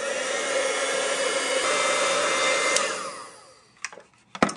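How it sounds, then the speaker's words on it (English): A heat embossing tool blows hot air over a card, a steady loud whirring hiss for about three seconds that then fades out, followed by a couple of small clicks and knocks. "once you've used your heat tool to emboss this, it's going to be really shiny"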